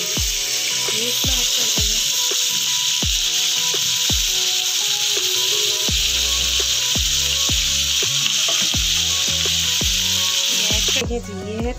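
Chicken mixture sizzles steadily in hot oil in a home kitchen, a constant bright hiss under repeated sharp clacks and scrapes of a utensil against the pan, close and loud throughout.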